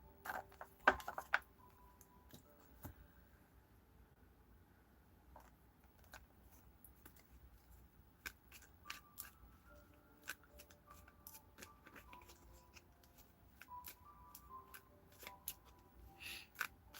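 Tarot cards are handled and shuffled close by in a quiet room, making soft, scattered flicks, taps and light card slaps at irregular intervals, faint overall with no talking.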